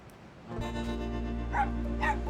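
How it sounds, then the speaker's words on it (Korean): A fox in the Nintendo Switch game Endling gives two short dog-like barks or yips over a low, steady game soundtrack hum. "근데 이렇게 개처럼 짖나? 여우가?"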